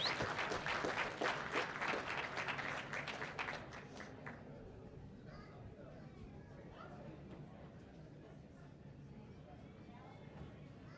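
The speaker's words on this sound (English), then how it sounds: "let's give her a big round of applause." An audience applauds at a ringman competition showcase, with dense clapping that fades after about four seconds into crowd murmur and chatter.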